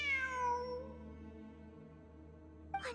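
A single cat meows clearly, a drawn-out falling cry in a quiet, echoey space, followed by a brief faint sound near the end.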